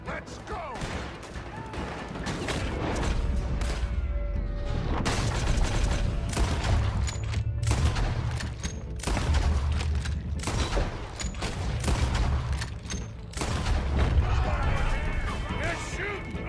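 A loud, chaotic gunfight in the video game Red Dead Redemption 2, with heavy volleys of shots, crashes and impacts that come and go in waves over shouted voices.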